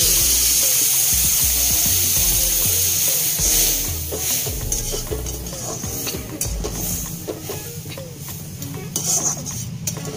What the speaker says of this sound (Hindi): अब हम इसमें थोड़ा सा पानी ऐड